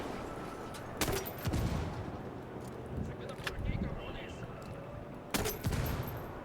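Sharp bursts of gunfire in Ghost Recon Wildlands crack out in a few short volleys, with a person talking between and over the shots.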